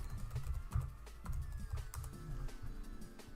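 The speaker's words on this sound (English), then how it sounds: "Really need to memorize this computer's keyboard layout a bit better." Fingers type on a computer keyboard close by, giving quick, uneven bursts of clicky keystrokes with brief pauses, faint and steady with no voice over them.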